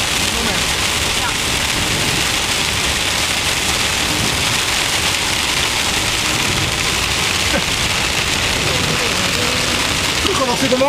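Heavy downpour with strong wind gusts and flooding outdoors, a dense continuous hiss of rain on surfaces, loud and unbroken throughout, with faint voices now and then.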